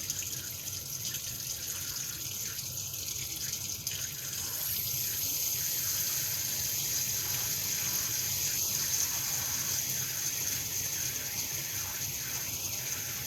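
Water runs steadily from a tap with a continuous hiss and splash, a faint rattling mechanism underneath.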